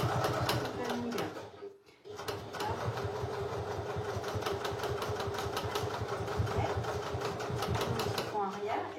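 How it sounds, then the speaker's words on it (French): A sewing machine topstitches along the full length of a zipped lining pocket on a bag, its needle running in a fast, even rapid patter with a brief pause, while someone talks over it. "Donc je fais ma surpiqûre. Toute la longueur."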